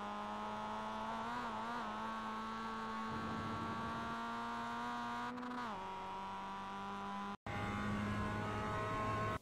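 A Mazda MX-5 race car in iRacing at Lime Rock Park runs at full throttle, a sustained, high-revving engine drone that holds steady with brief pitch dips and one short cut-out, and no talk.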